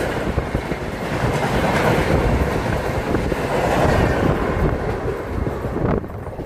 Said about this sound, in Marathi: जनशताब्दी सुपरफास्ट एक्सप्रेस आणि एक फास्ट लोकल आपल्याला पॅरलर ओव्हरटेक करते मागच्या साईडला